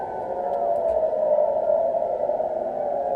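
Air-raid sirens over Jerusalem and the surrounding area, a steady sustained wail that fills the scene at constant loudness throughout, picked up by a distant live city camera.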